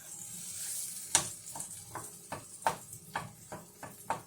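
Wooden spoon rubbed around butter in a pan, giving about eight soft, evenly spaced scraping strokes, quiet and close, with no talking.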